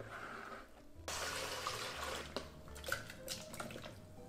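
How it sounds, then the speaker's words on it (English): Blended cucumber agua fresca pours through a strainer into a pitcher, a soft, steady watery trickle and splash with a few small drips, close and fairly quiet, with no talking. "I'm gonna be straining our cucumber drink so that we have a smooth, refreshing drink"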